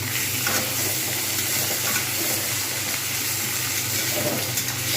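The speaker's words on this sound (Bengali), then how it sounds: "আলু এবং শিম পেঁয়াজ সবকটা ভাজা হয়ে যাবে ভালোভাবে।" Potatoes, flat beans and onion frying in a covered pan give a steady, even sizzle and hiss, moderately quiet and unbroken, with no talk.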